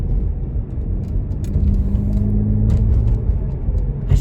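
A BMW 335i turbo engine, suspected of a failing turbo or boost leak, runs with a steady low rumble and faint whir, rising slightly in the middle, close and with no talk.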